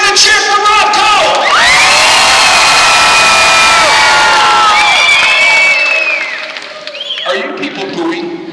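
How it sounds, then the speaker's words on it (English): An arena crowd at a live jousting show erupts in loud, sustained cheering, whoops and shouts that swell for several seconds and then fade into scattered calls and applause, with an announcer's amplified voice mixed in. "So when Rob Cole rides in, how are you going to cheer for Rob Cole?"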